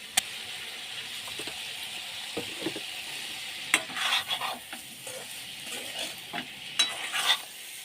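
Spice masala being stirred and sautéed in a pan, a soft sizzle beneath irregular spoon scrapes and clinks that cluster toward the middle and end, close up with no speech.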